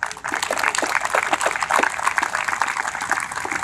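Applause from an audience at a first Tribal Day of Action at a state capitol, steady clapping filling the room for a few seconds.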